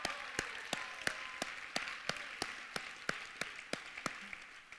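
Applause for finalists and showcase teams at the Do Good Challenge Finals, heard as sparse, evenly spaced claps in a steady rhythm, fairly faint and without talk.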